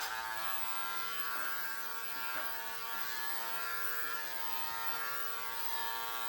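An ANDIS Essential hair clipper buzzes steadily and close up as it cuts hair on a mannequin head, a constant electric drone with slight dips as the blades pass through the hair.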